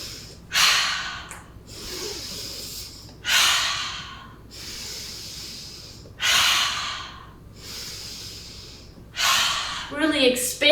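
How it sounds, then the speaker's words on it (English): Deep breathing during a gentle yoga flow: four long, loud breaths spaced about three seconds apart, breathy and close, with a brief voiced sound at the very end. "Inhale up."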